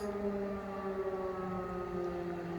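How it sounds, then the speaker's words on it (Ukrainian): An air raid all-clear siren wails over Kharkiv's Saltivka district on a winter evening, a steady, sustained, far-carrying tone that holds without a break and carries no voices. "Це не тривога. Це відбій повітряної тривоги."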